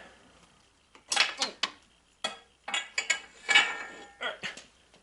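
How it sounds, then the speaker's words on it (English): A JD Squared No. 32 tube bender working electric weld tube of .095 wall for a golf cart bumper, giving a series of close metallic ratcheting clanks and creaks in uneven bursts. "That JD squared number 32 bender is awesome. This stuff is electric weld tube, so it's not even great tube"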